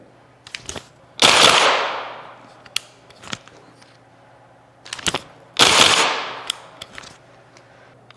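A training rifle fires two sharp, loud bursts outdoors, each a dense rattling volley with a fading tail, separated by scattered single clicks and pops of the mechanism in a quiet setting.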